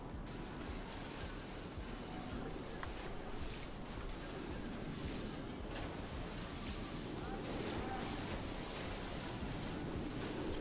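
Ocean surf in GTA roleplay on a NoPixel server: a steady, close wash of breaking waves mixed with gusty wind rumble, continuous throughout with no pauses.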